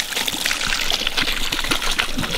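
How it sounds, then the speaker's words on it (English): Water trickles and dribbles steadily from a pipe drawing from a creek, a continuous close splashing stream with no speech over it. "Here's one pipe already pulling water out of the creek."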